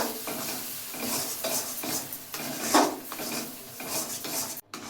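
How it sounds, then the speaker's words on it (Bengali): A chana dal mixture is stirred in ghee in a wok, with repeated scraping strokes of a utensil against the metal over a faint sizzle, close and fairly quiet, ending in a brief knock. "এইবার এটা আমার নাড়তে হবে।"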